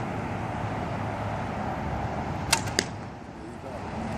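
An arrow looses from a newly handmade bow at an outdoor shooting session, two sharp, quick snaps cutting briefly through steady wind-like background noise, with no talking.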